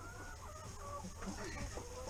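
Chickens clucking steadily in a new backyard coop with a rooster among the hens, several birds calling close by over a continuous farmyard hum, no talking.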